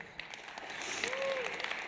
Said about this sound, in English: You hear the applause